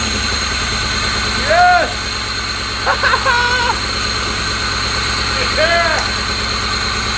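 An abandoned 1980s lowrider that sat for years idles steadily right after starting, a low, even engine rumble running throughout while excited voices shout and cheer over it.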